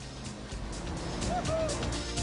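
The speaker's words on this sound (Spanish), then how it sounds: "Mientras los coches desfilaban a través de la ciudad y pasaban junto al Coliseo" Maserati cars pass the Colosseum in a parade through Rome, producing a steady, moderately loud rumble of engines and road noise that swells slightly as they go by.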